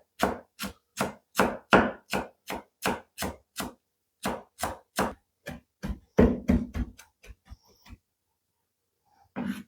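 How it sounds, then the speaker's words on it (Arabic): Fresh green coriander chopped on a board with a knife, a steady run of about twenty crisp, evenly spaced close knocks that speed up toward the end, then stop, leaving near silence. "وعلى السريع بدنا نقطع شوية كزبرة خضراء"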